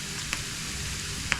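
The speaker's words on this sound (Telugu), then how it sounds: "తాలింపు పప్పులో వేసేద్దాం" Tempering of browned onion is poured into lentil dal for munagaku pappu, producing a steady close sizzle with two brief clinks of a utensil.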